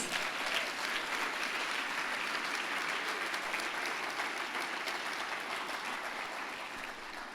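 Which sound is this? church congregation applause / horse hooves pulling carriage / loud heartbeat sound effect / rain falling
church congregation applause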